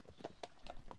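Horse hooves clip-clopping in a video game, a brisk run of four or five evenly spaced hoof beats, soft and close with no talk.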